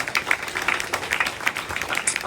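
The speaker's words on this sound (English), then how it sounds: "give a round of applause for our nurses, our social workers, our doctors" Audience applause honoring nurses, social workers and doctors in cancer care, a steady dense patter of many hands clapping at moderate loudness throughout.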